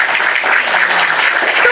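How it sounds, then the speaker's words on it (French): Audience applause, dense and loud, a continuous wash of many hands clapping close by with no pauses across the short stretch. "Tant mieux on applaudit."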